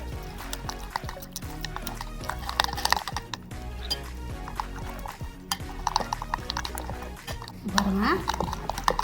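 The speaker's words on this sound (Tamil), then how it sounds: "இப்போ நம்ம தண்ணி ஊற்றி மிக்ஸ் பண்ணிக்கலாம்." Water poured into fish-finger batter and mixed in a bowl, with wet sloshing, dripping and scraping stir strokes in an uneven rhythm, close by and fairly quiet.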